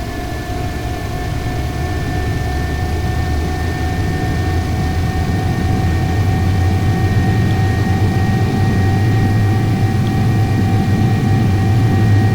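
Airliner jet engines spooling up to takeoff thrust, a steady loud roar with a deep low rumble and constant whining tones that builds slightly and holds throughout, with no talk.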